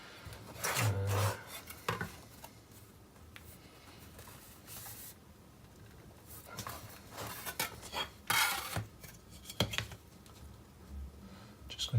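A block of wood scraped across a printed circuit board whose surface is delaminating, heard as rough rasping strokes that come in irregular bursts, with quieter stretches of scratchy rubbing in between.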